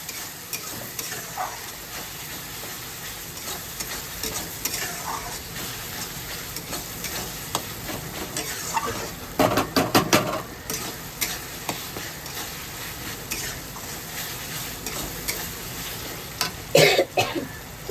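Spice masala frying in a pan of oil for an apple chicken dish: a steady close sizzle runs throughout, with occasional louder bursts and clinks of stirring against the pan, and no talking.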